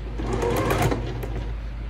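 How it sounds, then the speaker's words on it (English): A sewing machine stitches quilt pieces together in rows, giving a close, steady, rapid whirring hum for the whole short stretch. No one talks. "It's just sewing the pieces together in rows."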